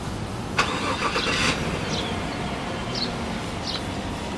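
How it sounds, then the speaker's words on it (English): A 2016 Chevrolet Suburban LT starts by remote start: a brief cranking burst, then a steady engine hum heard from outside, with faint bird chirps in the background. "To remote start the vehicle, you just lock it and hold down the remote start button once."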